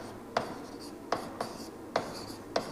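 Chalk or marker strokes on a board during a classroom lesson, a few sharp scratchy taps spaced irregularly over a quiet room background.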